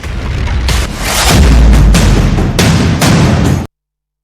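A drone explosion in Tel Aviv: a loud, deep boom bursts out with rumbling, crackling aftershocks, several heavy thuds following in quick succession before sudden silence.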